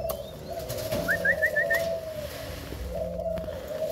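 Domestic pigeons coo softly in a loft on a warm day, a low repeated call under a steady electrical hum, with a brief whistling chirp and no voices.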